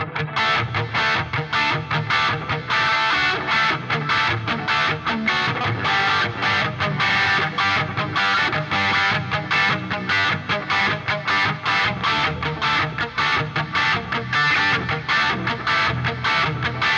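Electric guitar played through a rack rig with delay and distortion, a dense, continuous driven tone with rhythmic picking and sustained, echoing texture throughout, loud and alone.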